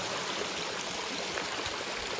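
Water rushes steadily through the chute of a collection box on an off-grid micro hydro setup, a close, continuous broadband splashing flow with no voices.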